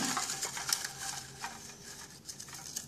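Continuous soft rustling and shuffling of paper slips being stirred around in a container, with light crisp patters, close up.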